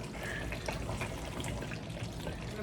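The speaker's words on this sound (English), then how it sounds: "pour some more water for the gravy" Boiling water pours into a simmering Bangladeshi gravy in a home kitchen, making a continuous splashing and gurgling stream at moderate volume.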